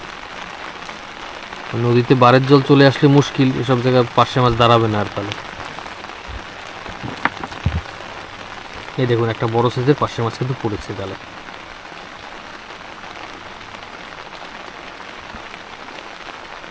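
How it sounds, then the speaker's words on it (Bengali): Rain falling on a river and an umbrella while a long net is pulled in for pārshe fish, a steady dense patter throughout, with someone talking in two stretches over it. "এই উপরে বৃষ্টি হয়ে মুশকিল হয়ে গেছে"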